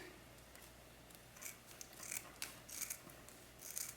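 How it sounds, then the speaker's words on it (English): Scissors snip through excess deco mesh on a spring wreath, a run of close, soft crunching cuts with a rasping edge, growing denser toward the end. "so once you have all of your mesh in place, just cut away the excess"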